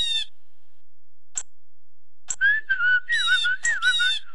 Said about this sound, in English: Have you heard birds singing?